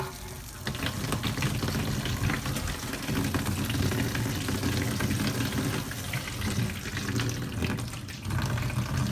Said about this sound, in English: So Sarah just turned on the water.